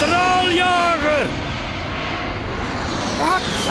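A jet fighter passes overhead, its engine roar loud and steady for several seconds with a sweeping whine near the start and again toward the end.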